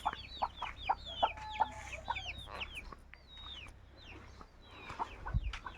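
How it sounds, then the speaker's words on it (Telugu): Chickens in a tribal village in Telangana, with repeated nearby clucks and squawks in a loose, uneven rhythm, several birds calling over a low background hum. "చూడండి కోళ్ళు."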